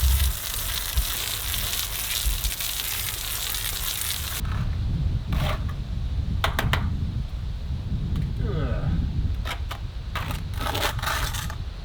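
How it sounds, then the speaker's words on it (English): Gritty scraping and sloshing of mortar being mixed by a beginner in a building workshop, a dense rough texture loud at first then continuing at a lower level with intermittent sharp clinks and scrapes. "So I'm gonna mix some mortar and start to work on this."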